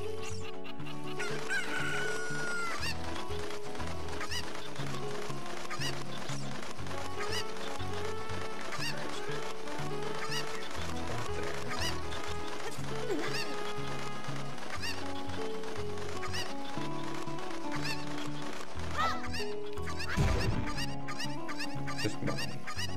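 Chickens cluck repeatedly inside The Legend of Zelda: Ocarina of Time, the game's clucking sound effects layered over continuous background music throughout.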